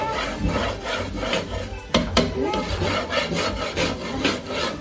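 Steady, rough rasping as a truck body is scraped smooth during bodywork, rhythmic back-and-forth strokes close to the listener, with a couple of sharper knocks partway through.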